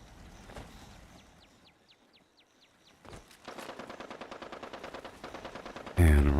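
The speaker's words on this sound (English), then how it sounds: "Let's get that artillery." Artillery in the Fallout 76 video game: a handful of scattered launch thumps and a dry rising whistle, then dense rapid firing that grows into a rattling barrage and ends in a sudden loud blast.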